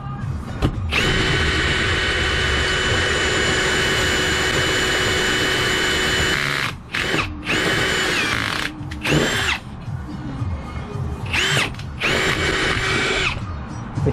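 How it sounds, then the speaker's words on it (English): A power drill with a hole saw boring a 2-inch hole while installing a Lenca Auto Glide, a loud steady high whine for several seconds, then stopping and restarting in short bursts. "we're going to put a hole 2 inch right here"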